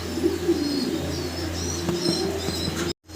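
Fancy pigeons, blue barless and opal bar birds, cooing in soft low repeated murmurs close by, with faint chirps and rustling around them and no talking.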